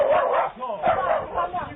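A small dog barks and yips in quick bursts at a doorbell camera while meeting a man for the first time, close and thin-sounding, mixed with voices.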